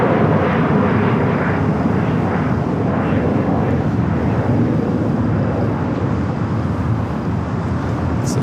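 A six-year-old TAP Airbus A330neo at LAX airport gives a loud, continuous jet engine roar. The broad rumble holds steady and close for the whole stretch, with no voices.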